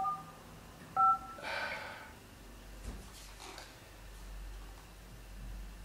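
A telephone number dialed on a keypad gives a quick run of sharp DTMF beeps near the start, followed by faint line hiss and low background noise.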